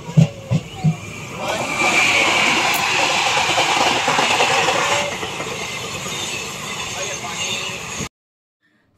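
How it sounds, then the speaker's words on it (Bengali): Interior of a moving train ridden from Naihati, with a steady rumbling roar of wheels and carriage over the rails after a few brief knocks at the start, cutting to silence near the end. "ফাইনালি আমরা নৈহাটি থেকে ট্রেন ধরে নিয়েছি"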